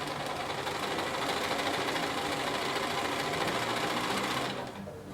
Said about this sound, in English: Okay, so we're going to sew across here.